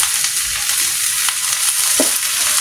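Okra fries with onions and chillies in a pan on low heat, a continuous loud, close sizzle with a few faint stirring clicks.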